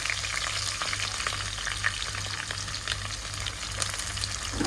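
Sliced onions fry in hot oil in a pan for a Kerala home recipe, a continuous crackling sizzle with intermittent scraping and clinks of a spoon stirring, close and fairly loud, with a low steady hum underneath.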